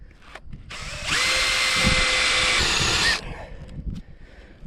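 A power drill bores into a rock seawall in one loud, steady, whining run of about two seconds, with faint scraping and knocks before and after.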